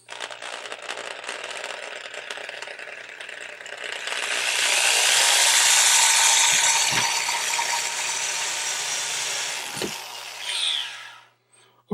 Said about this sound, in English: We're going to drill that a little bit.